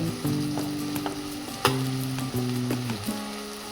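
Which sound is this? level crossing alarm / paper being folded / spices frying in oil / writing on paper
spices frying in oil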